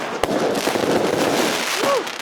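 New Year fireworks going off in a continuous dense crackle, with one sharper bang near the start and a brief rising whistle near the end, loud and steady throughout.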